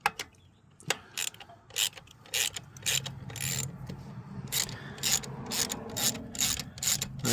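A ratchet wrench clicks in quick, uneven bursts while loosening a bolt on a 2016 Arctic Cat 500 EFI ATV, close and crisp, with short pauses between strokes and faint scraping of metal.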